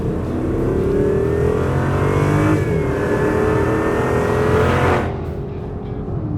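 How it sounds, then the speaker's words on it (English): A 2023 Chrysler 300C V8 engine revs hard and climbs in pitch, holding a loud throaty roar for several seconds before easing off. "that is a good sounding engine."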